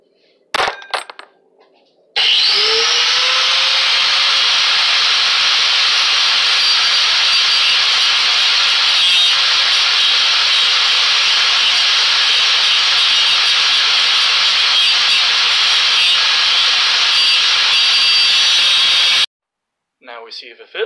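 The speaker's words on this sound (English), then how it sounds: "I'm gonna grind this bit down, flatten it out until it is." A rotary grinder steadily grinds down a power armor finger part to flatten its profile. A loud, continuous high-pitched hiss runs for about seventeen seconds after a brief spin-up, with short pauses before and after.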